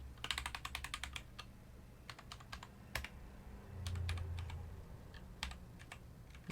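Keys on a Keychron K2 mechanical keyboard pressed one after another in quick clusters of clicks and clacks, close and fairly quiet, with short pauses between bursts.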